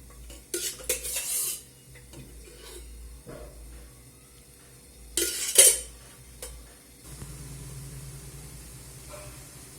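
Methi muthiya dough of fenugreek leaves with a pinch of soda and added oil being mixed in a bowl, with a few scraping clinks and rubbing bursts separated by quiet stretches, close up and with no talk.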